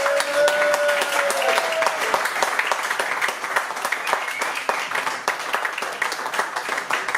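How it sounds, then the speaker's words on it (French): A concert audience at La Zonmé in Nice applauds the pianist Lucie in a loud, dense wash of clapping that carries on without a break, with a few brief tones rising through it early on. "que l'on applaudisse très très fort Lucie"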